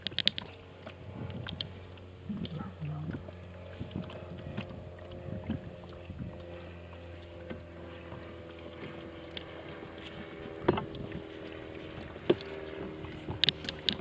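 A Walker Bay 8 small sailboat tacking on the Rideau Canal, with water lapping and sloshing against the hull, creaks and knocks from the rigging and boat, and light wind noise, all fairly close.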